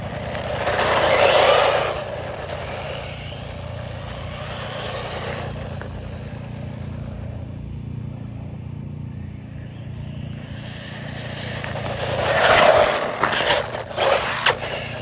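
A DeeRC 8618 1/16-scale RC truck driven at partial throttle, heard as a whining electric motor that swells nearby, fades into the distance and then surges back close again toward the end.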